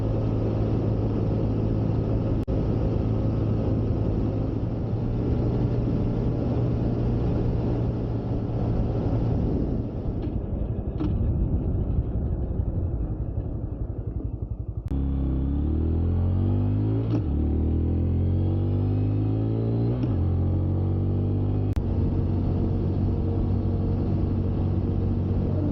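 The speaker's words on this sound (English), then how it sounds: "Right now, on this Grom, I'm doing 60." Honda Grom motorcycle engine droning steadily while riding at about 60 mph, then shifting and revving up through gears with rising pitch sweeps, loud and close with wind rumble and no speech.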